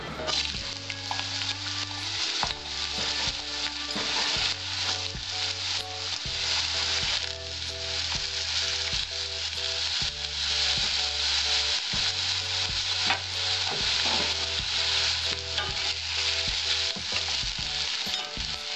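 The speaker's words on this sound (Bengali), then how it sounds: "প্রথমে আমি আলুটা ভেজে নেব।" Potatoes frying in a pan, a dense, continuous sizzle and crackle with occasional stirring scrapes, steady and close throughout, overlaid by a repeating background music loop and no talk.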